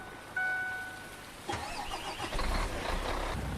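A truck engine cranks and starts in Farming Simulator 19, turning over after a brief click and settling into a steady, moderately loud idle with no talk over it.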